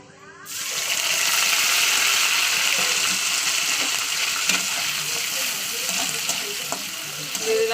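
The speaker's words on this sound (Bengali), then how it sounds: "চিংড়িটাকে একটু ভাজা ভাজা করে নেবো" Shrimp hits a hot pan and erupts into a loud, continuous sizzle that keeps crackling steadily, with occasional stirring clinks.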